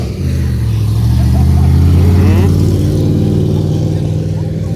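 A Camaro SS at a hot rod tour event at a motor speedway rumbles with a steady, loud low engine note as it drives past, with a brief rev midway and faint voices in the background.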